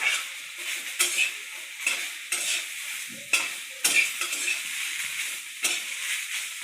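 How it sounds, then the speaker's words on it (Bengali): Moringa leaves fry in hot oil in a pan with a steady bright sizzle, while a utensil stirs and scrapes them in a series of clattering strokes about once a second. "একটু ভেজে নিন।"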